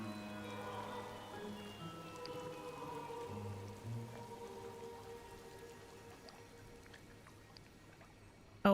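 Rain in the Disney Dreamlight Valley video game, a soft, faint patter of drops over low tonal game music that fades, leaving quiet steady rainfall.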